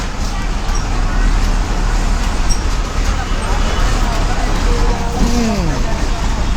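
A bus rolls along a road through Vijayawada traffic with a steady, loud rumble of engine and road noise, a faint bell-like tone rising and falling near the end.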